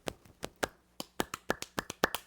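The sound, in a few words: drummer's clap rhythm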